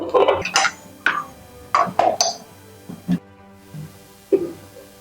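A lid set down on a pot of chicken butter masala, a few sharp metallic clinks and clanks of metal and glass close by, spread over several seconds with quiet gaps between them.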